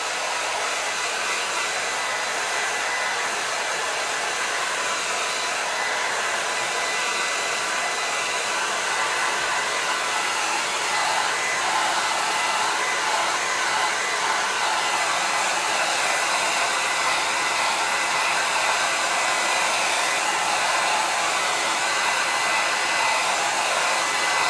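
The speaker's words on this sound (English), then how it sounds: "Now I use my handy dandy hair blower sorry, this is going to be loud." A handheld hair dryer blows steadily at close range, a loud unbroken rush of air lasting the full stretch while it dries a freshly painted coat.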